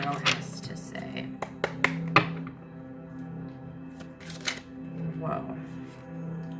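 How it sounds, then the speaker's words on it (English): Tarot cards riffled and shuffled by hand in a few quick, crisp bursts, with soft handling and tapping between, close and clear over a low steady background hum. "I'm going to do one more shuffle"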